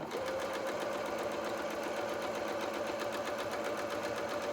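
Sewing machine stitching a doll's arm, a steady continuous mechanical whir with a sustained motor tone and rapid needle rhythm throughout, close and even in level.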